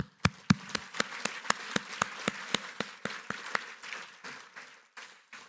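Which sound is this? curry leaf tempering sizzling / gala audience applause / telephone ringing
gala audience applause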